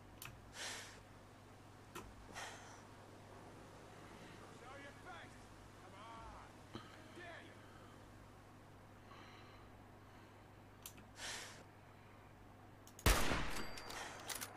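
A gun fired in Fallout 4 lets off a few scattered distant shots under quiet background hum and breathy sounds, then one sharp, loud blast near the end followed by a brief echoing tail.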